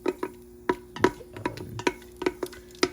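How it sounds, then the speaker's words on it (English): Crushed cinnamon tempering in hot oil and ghee for pulao, with a soft sizzle under a string of close, crisp ticking clicks of utensil contact at irregular short intervals. "So we're going to temper it in this oil for about 30 seconds."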